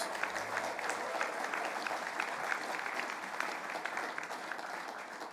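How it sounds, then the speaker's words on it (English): Applause from a political convention audience, a crowd clapping continuously and evenly with sharp individual claps standing out, heard at moderate distance for the whole stretch. "So give them a big round of applause."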